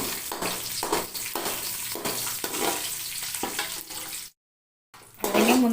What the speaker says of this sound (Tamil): சிம்மில் வச்சுட்டு நம்ம முந்திரி பருப்பை இப்போ வறுத்து நம்ம எடுத்து